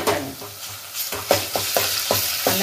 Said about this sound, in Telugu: అల్లం ఫ్రై అవుతుంది.